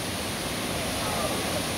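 The Fairy Waterfall near Taiping, Taiwan gives a steady, soft rushing hiss of falling water, even and unbroken throughout.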